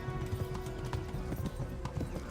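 Horse hooves galloping in Kingdom Come: Deliverance, a steady rapid clip-clop rhythm close and loud throughout, with a brief whinny-like tone mixed in.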